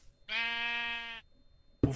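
A single sheep bleats in a clear, sustained, nasal cry lasting about a second, close and alone, followed by a sudden thump.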